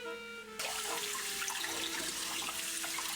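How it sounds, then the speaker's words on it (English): Kitchen tap turned on after a quiet hum, then running water splashes steadily into a sink, close and loud throughout, with no talk. "the mic placement here should give you a really good idea of what water sounds like"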